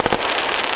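Fourth of July fireworks over Stroudsburg and East Stroudsburg, Pennsylvania, bursting in two sharp close booms followed by a dense, sustained crackling that fills the rest of the moment.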